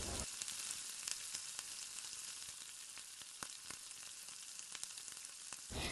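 Chopped tomato frying in hot oil, a steady faint sizzle with scattered crackles and pops, alone with no talking.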